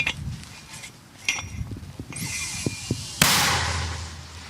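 After some quiet rustling and a few light knocks, a 60 mm mortar fires with a single loud blast, followed by a long rushing roar that fades slowly.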